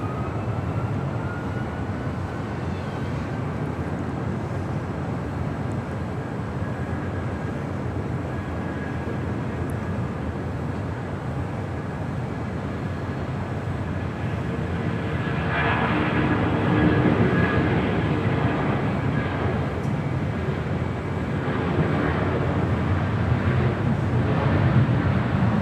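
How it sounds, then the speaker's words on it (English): A United Boeing 757 takes off from LAX, a steady distant jet roar that swells louder partway through the roll and climb, with no talk. "Our next departure here on the south side is at United 757, heading to Chicago O'Hare."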